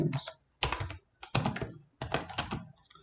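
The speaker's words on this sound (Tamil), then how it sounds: "3 ஹார்ஸ் டைப் பண்ணிக்கிறேன்." Short clusters of close computer keyboard keystrokes tap out in three or four quick bursts separated by brief gaps, quiet and crisp, as words are entered into a Microsoft Word document.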